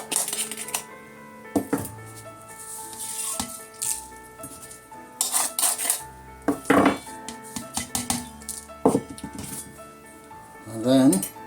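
A spoon scrapes stuck bits loose from the bottom of a pan, giving irregular clattering metal scrapes and knocks close by, with brief talk in between.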